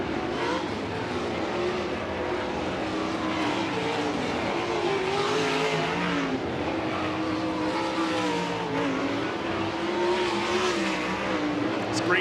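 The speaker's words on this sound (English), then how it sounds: "Cars going to get up to speed as we get ready here for group number 1" Sprint race cars roar around a dirt oval at a speedway during hot laps, accelerating in a loud, continuous, rising and falling engine howl of several cars together.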